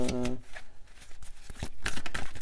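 Oracle cards being drawn and shuffled from a deck, a few soft papery slides and flicks, close and fairly quiet, with someone speaking over part of it.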